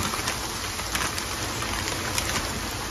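Rain pours steadily outdoors, a loud, dense, unbroken hiss with faint patter of drops hitting surfaces throughout.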